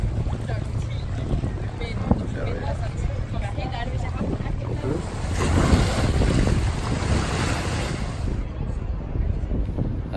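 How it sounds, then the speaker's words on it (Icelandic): Wind blowing in Sydney, buffeting the microphone with a steady low rumble that swells louder for a few seconds midway, with a watery, open-air wash in the background and no clear talk. "vindur í Sydney."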